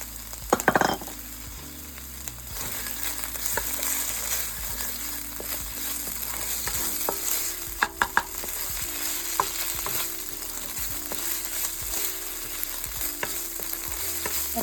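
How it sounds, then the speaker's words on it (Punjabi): Garlic-ginger paste and chopped green chilies frying in a pan for paneer lababdar, a steady sizzle with occasional spoon scrapes and clinks against the pan, no talking. "ਆਪਾਂ ਜਿਹੜਾ ਲਸਣ ਤੇ ਅਦਰਕ ਦਾ ਪੇਸਟ ਪਾਇਆ ਉਹਨੂੰ ਥੋੜਾ ਜਿਹਾ ਸੇਕ ਤੇ ਹਰੀ ਮਿਰਚ ਨੂੰ ਲਵਾ ਕੇ"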